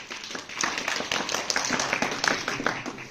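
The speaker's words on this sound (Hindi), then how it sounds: "तालियां" A classroom of students at a government school quiz claps together in a dense, steady burst of applause lasting about three seconds, with no voices over it.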